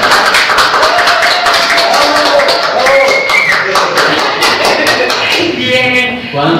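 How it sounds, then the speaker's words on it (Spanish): Studio audience applause on a Spanish-language television talk show, dense clapping running throughout at high level with music and a voice mixed in over it. "un aplauso"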